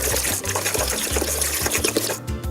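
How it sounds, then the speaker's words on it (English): Blender running as it mixes coconut milk and coconut flakes into a quindim custard batter, a steady loud motor whir with low churning pulses throughout, no talking. "Just blend them all together."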